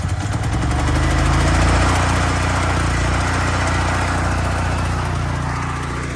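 A Firman generator engine starts with the choke at half on a mild day, running loud and close in a steady, rough, throbbing drone that holds for the whole stretch and eases slightly near the end.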